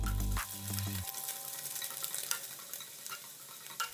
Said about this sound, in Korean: 마늘 넣고 볶아서